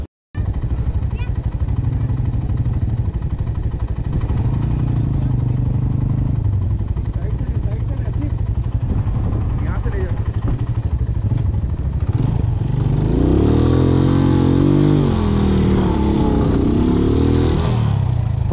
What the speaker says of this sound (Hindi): चलो भाई ये फराज की बाइक और वो मेरी, चलते हैं अंदर